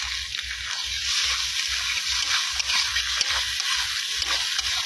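Onion and tomato fry with salt and spices in a pan, giving a steady hiss and crackle close by while a utensil stirs rhythmically through the mix.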